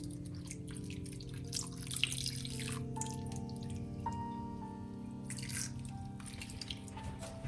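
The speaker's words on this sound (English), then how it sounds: "I will give it a little bit of water just so that way it is fertilized" Water trickles and drips into a potted plant with rocks on the soil, a light, close pouring with scattered droplets.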